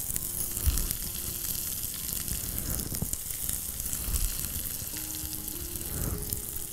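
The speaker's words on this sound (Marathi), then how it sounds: "आता आपण हा कांदा घालू." Onion sizzling and frying in a pan for jackfruit kachori filling, a steady close crackle and hiss with a few brief soft knocks, no voices.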